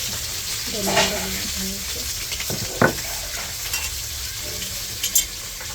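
Snakehead fish frying in oil, a steady hiss of sizzling with occasional louder spits and knocks of a utensil against the pan, faint voices murmuring in the background.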